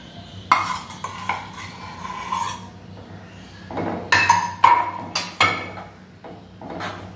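Fresh cream is stirred in a pan over a low flame, producing intermittent scraping strokes and light clinks of a spoon against metal, close by, with quieter gaps between strokes.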